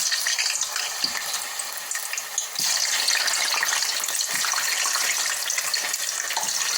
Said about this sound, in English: now the oil is warmed up. So I'm gonna put the yam